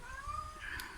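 A house cat meows indoors, a faint rising-and-falling cry followed by a second short meow, heard close but quiet over low room noise.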